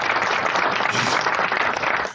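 Applause for guest Robert Burriss on the Steady Sippin' TV talk show: a dense, steady wash of clapping close by, holding at an even level for about two seconds before tapering slightly at the end.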